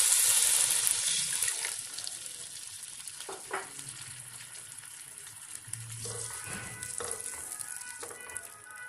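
Water is poured into sizzling frying masala for a fish kofta curry, a bright splashing hiss that starts loud and settles into a softer bubbling simmer with a few stirring clinks, heard alone.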